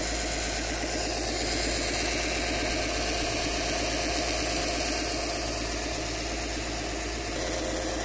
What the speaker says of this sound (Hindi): मोटर ने रोटेट होना स्टार्ट कर दिया है।